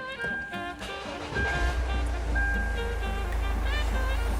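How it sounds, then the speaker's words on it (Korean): A Hyundai Tucson ix, a four-wheel-drive model, cranks and fires up at about 1.5 seconds, then settles into a steady, loud low idle heard from inside the cabin, with faint chime-like tones above. "차량 시동을 걸어보겠습니다."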